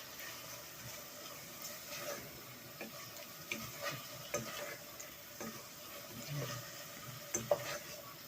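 Faint stirring of food in a pot alongside soft sizzling, with irregular small scrapes and taps spread throughout, quiet and without talk.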